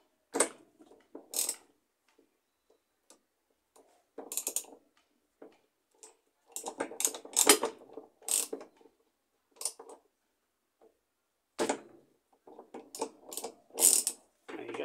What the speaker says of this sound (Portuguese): Agora pegar uma chave 10 aqui, ó. Vamos soltar essas peças. Vamos soltar esse parafuso aqui, ó.